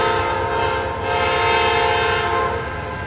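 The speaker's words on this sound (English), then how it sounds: "And here he comes, chugging down the line." A freight train led by a Dash 9 locomotive, with two or three engines, chugs past up close, its loud, dense engine roar and rumbling cars holding steady throughout.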